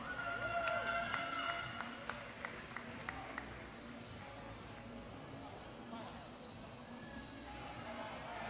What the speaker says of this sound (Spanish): Fuerte el aplauso para ellas.